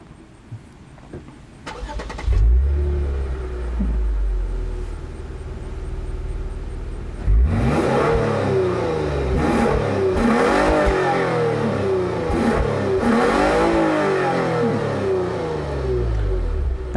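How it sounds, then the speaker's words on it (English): A 2021 Lexus IS 350 F-Sport AWD V6 engine cranks briefly, then fires up and idles before being revved repeatedly, the rising and falling roar loud and close. "let's fire up that old V6 or that tried and true V6 and see how it sounds"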